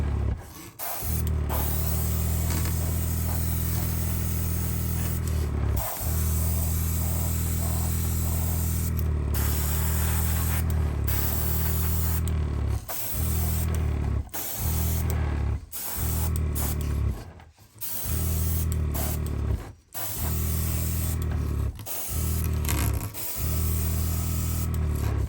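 Airbrush spray painting a 1/72 scale MPM Fokker T.VIII W/G floatplane model, including its float struts: a steady, loud, continuous hiss of spray with many short breaks and quick restarts as the trigger is released.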